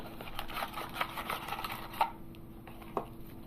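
A Kodak Zink photo printer feeds and prints a photo, making faint rapid mechanical clicking and whirring with a few sharper ticks, heard close and alone.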